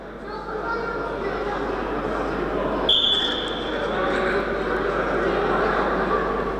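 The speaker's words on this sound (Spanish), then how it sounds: "Pitido de reinicio de la brega." A referee's whistle restarts a bout of Canarian wrestling: one short, sharp blast partway through, heard under steady crowd noise and commentary.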